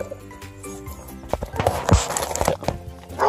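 Horses moving about while being offered a row of Tractor Supply horse treats, with hoof clops, shuffling and a sharp snort-like burst near the middle, fairly close and moderately loud.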